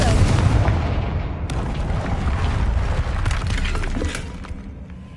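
A Confringo blasting spell in Hogwarts Legacy detonates in a loud, sustained burst of crackling, shattering debris and deep rumble that stays dense for several seconds before tapering off.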